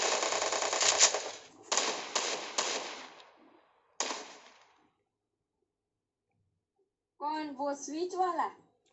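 Rapid bursts of automatic gunfire from the Free Fire video game crackle in dense volleys for about four seconds, then fade to silence before a voice begins speaking.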